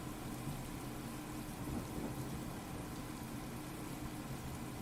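Steady rain pours down with a low rumble of thunder underneath, a constant wash of noise without any voices.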